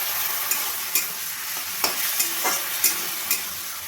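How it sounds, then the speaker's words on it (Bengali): Chili fish in sauce is stirred in a frying pan: a loud, constant sizzle with a utensil scraping and tapping the pan every second or so, close up and with no talking. "ভালোভাবে একটু নাড়িয়ে নেব।"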